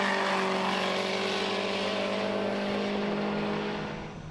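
A Subaru Impreza Type R is driven hard on a handling course, a loud, close engine note with steady tonal whine that holds and then fades slightly as the car moves away.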